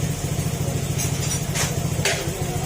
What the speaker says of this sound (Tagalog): nga tahimik yung makina oh